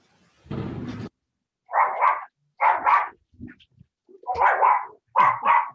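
A dog barks during a rainy thunderstorm, loud and close, a string of sharp barks that often come in quick pairs, separated by short pauses, after a brief burst of broader noise at the start.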